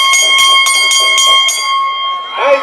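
Starting bell at a horse racing track rings in a rapid series of about six sharp metallic strikes with a sustained ringing tone, then fades as a voice begins at the end.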